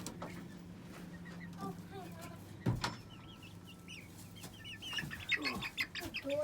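A young barred Plymouth Rock rooster clucks nearby in short, scattered calls, with a few louder bursts and other soft bird sounds around it.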